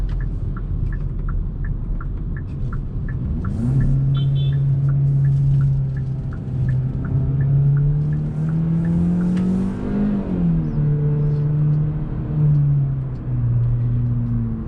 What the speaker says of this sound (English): I did hear the pops and crackles from the exhaust